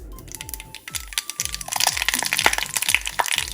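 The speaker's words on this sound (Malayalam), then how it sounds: "അപ്പോൾ എണ്ണ ചൂടായി വരുമ്പോൾ നമുക്ക് ഇതിലേക്ക് കടുക് ഇട്ട് കൊടുക്കാം." Mustard seeds splutter and pop in hot coconut oil in a home kitchen, a dense run of sharp crackles and small bursts close by, with no one speaking.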